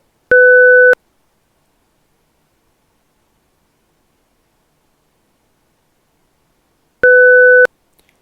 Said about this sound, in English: So it's going to play a send-off tone every 7 seconds.